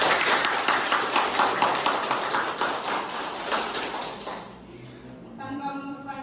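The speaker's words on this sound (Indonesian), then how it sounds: "Mari kita berdiri, kita memberikan tepukan tangan yang meriah pada Bapak Albertus." Audience applause at an education seminar, a dense wash of many hands clapping that holds steady for about four seconds, then thins and fades away.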